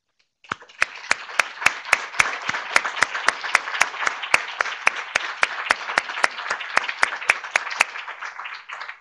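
Applause at a university honour roll ceremony starts abruptly after a moment of silence and continues evenly, with some sharp, loud individual claps standing out at a steady rhythm.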